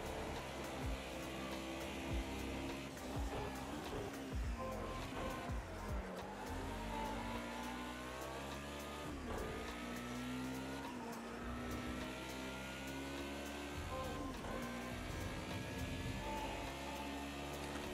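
Mercedes 190E Group A race car in Project Cars 2 accelerating hard, a loud continuous engine drone with rising revs and gear changes across the whole stretch, alone with no talk.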